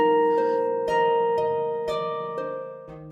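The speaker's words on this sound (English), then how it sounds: "The sound you're hearing is a sonified virus protein." Sonified SARS-CoV-2 spike protein rendered as music: sustained tonal chords with a string of soft struck note onsets, changing pitch every half second or so, steady and moderately loud with no voices.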